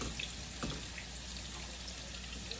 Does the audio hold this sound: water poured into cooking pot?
yes